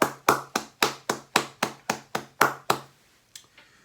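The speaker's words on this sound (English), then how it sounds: "let's take a moment to recognize and give these companies a round of applause" About eleven sharp, evenly spaced claps ring out one after another at a steady slow beat, each with a short decay, before a final faint tap as the sound dies away.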